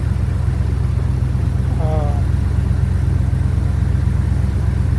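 A 1971 Ford engine idles steadily after a cold start in 20-degree weather, a constant low rumble running throughout, with a brief faint chirp partway through.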